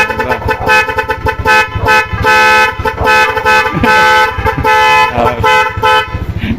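NHAY 3+ music horn module sounding on a vehicle, loud close blaring horn tones playing a rapid melodic sequence of changing pitches with choppy rhythmic pulses throughout.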